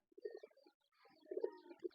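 A pigeon on a pigeon farm coos softly in two short, throaty phrases, faint and fairly close, with no other sound around it.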